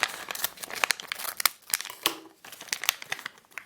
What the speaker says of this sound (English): I'll put the scissors in my hand properly.